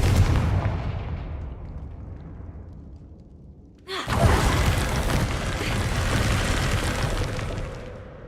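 A Confringo blasting spell in Hogwarts Legacy goes off about halfway through as a sudden loud burst. A sustained roaring rumble follows, after quieter fading game ambience.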